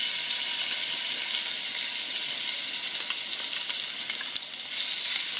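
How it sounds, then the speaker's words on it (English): Garlic sizzles in hot oil in a skillet, making a steady, dense frying hiss throughout with faint crackles and a few small pops, close and fairly loud, with no voices. "we're gonna go ahead and add our garlic to our oil"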